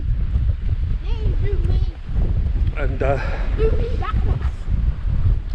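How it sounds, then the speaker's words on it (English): Strong wind buffets the microphone high on Ben Nevis, a steady rough roar with gusts, while voices talk over it throughout. "The wind is absolutely howling."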